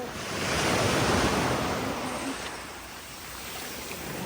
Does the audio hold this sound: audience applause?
no